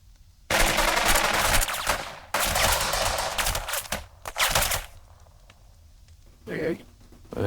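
Gunfire from the Burden of Command video game rattles in long loud bursts of rapid machine-gun fire, then trails off into scattered shots and quieter noise.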